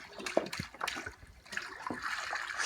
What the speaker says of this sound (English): she's dumping in 4 liters of white vinegar